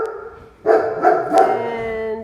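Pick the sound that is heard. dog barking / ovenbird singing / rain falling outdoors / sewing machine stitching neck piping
dog barking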